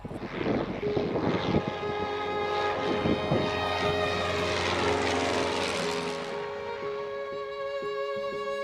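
A small propeller plane drones steadily in flight, climbing over mountains near the Adriatic Sea in Abruzzo, Italy, its engine hum loud and continuous with a buzzing tonal whine that eases slightly toward the end.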